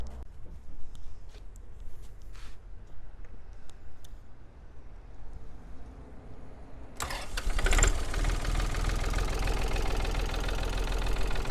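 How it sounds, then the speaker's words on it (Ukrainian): A Yanmar AF33 mini tractor's small diesel engine cranks and starts after some quiet background noise, then settles into a steady, loud, even idle with a rapid knocking rhythm. "зараз я вам заведу його і ви собі послухаєте роботу даного трактора"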